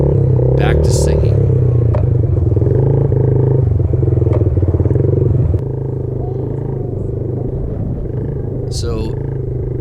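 A small Yamaha TT-R50 dirt bike engine runs steadily at a low, buzzing idle throughout, close and fairly loud, with voices over it.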